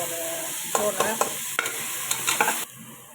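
Fresh ginger paste and tomatoes fry in a pan while being stirred, a steady soft sizzle broken by several scraping strokes of the spoon, close and without talk.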